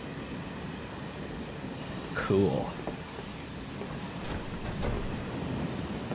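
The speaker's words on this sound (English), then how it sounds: "So we're on the train." Train ride in Final Fantasy VII Remake: steady rolling rumble of a rail car with a brief metallic clank and squeal midway, while a person speaks briefly over it.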